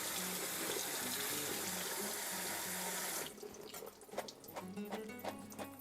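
Kitchen tap water runs hard into a sink while food is rinsed for a vegetarian chili, a loud steady gush that cuts back to softer splashing and dribbling partway through, no voices.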